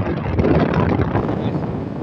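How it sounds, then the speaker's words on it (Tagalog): Strong gusting wind ahead of a typhoon, buffeting the microphone with loud, rumbling roars and fluctuating bursts, close and continuous. "Ang lakas ng hangin kasi di ba may bagyo."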